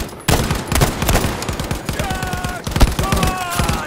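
In Battlefield 5, a military simulation operation on the Hamada map, rapid automatic gunfire crackles in dense bursts with overlapping shots, and a few short whistling tones rise over the continuous fire.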